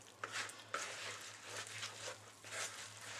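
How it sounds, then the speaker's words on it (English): Quick stirring of a lower-carb cranberry salad with a spoon, with soft repeated scraping and swishing strokes close up over a faint steady hum, and no talking. "just did a quick stir"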